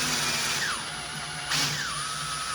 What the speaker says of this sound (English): you want to use a 3/16 drill bit to drill it out